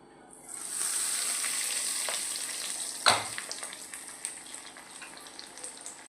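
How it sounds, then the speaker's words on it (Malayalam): Cauliflower florets coated in breadcrumbs deep-frying in hot oil, a steady close sizzle with a brief louder crackle partway through, no talking. "ഇനി കോളിഫ്ലവർ ഓരോന്നായിട്ട് ഈ ബ്രെഡ് ക്രംസിൽ ഇട്ടതിന് ശേഷം നമുക്ക് ഫ്രൈ ചെയ്തെടുക്കാം"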